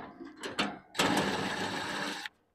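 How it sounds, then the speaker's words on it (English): Screws being backed out of the rear panel of a 20kW Cummins home backup generator, a short whirring burst from a powered driver after a few brief clicks, close and fairly loud, then stopping abruptly. "first thing you got to do is take off these two screws here"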